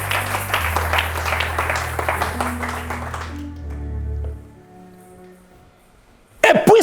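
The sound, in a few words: church congregation applauding to acclaim Jesus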